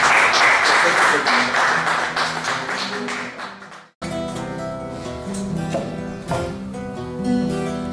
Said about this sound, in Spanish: Vamos a darle un aplauso a Miguel.